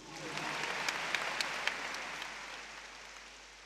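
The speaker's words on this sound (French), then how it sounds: "On applaudit pour Dieu." Audience applauding at a televised New Year's show in Côte d'Ivoire, a steady moderate wash of clapping with a few sharper claps standing out, slowly fading over a few seconds.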